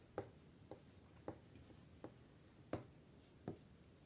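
A pen writes notes on paper, with soft, close scratching strokes and several distinct taps spaced irregularly in a quiet room.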